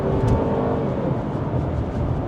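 A Mercedes C-Class pulls away with a steady, fairly loud engine hum and some road noise. The sound holds even throughout, with no voices.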